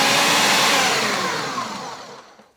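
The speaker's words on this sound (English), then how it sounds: "I'm gonna pulse our mushrooms to the same consistency as our vegetables." A food processor whirs loudly while pulsing mushrooms and halved shallots, a close dense motor roar that winds down and fades to silence over a couple of seconds.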